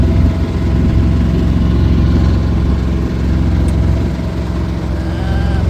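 A small auxiliary engine on a sailboat runs steadily, a continuous droning hum that stays loud and even throughout with no breaks.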